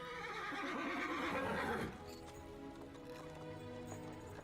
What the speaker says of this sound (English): That's a cart with a horse.